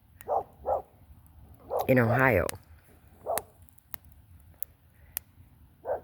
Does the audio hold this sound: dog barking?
yes